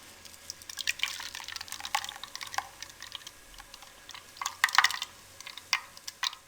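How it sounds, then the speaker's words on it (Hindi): Mint, coriander and green chili water for pani puri drips through a tea strainer in quick, irregular small drops and splashes, close and fairly quiet against a hushed background. "पानी को चाय पानी के साथ मैंने अच्छे से छान लिया है।"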